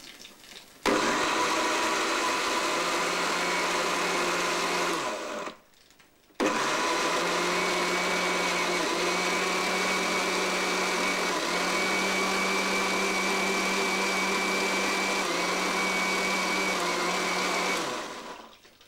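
A kitchen grinder blends onions, green chilies and lemon juice in steady, loud whirring bursts, with a short pause partway through before the motor runs again at a constant pitch.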